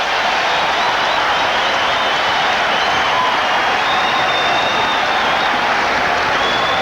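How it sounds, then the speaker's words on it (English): A packed basketball arena crowd at the Forum in Los Angeles roars steadily during a 1984 playoff game between the Lakers and Mavericks, a dense, loud, unbroken wash of cheering and applause. "the crowd is on its feet here at the Forum in Los Angeles"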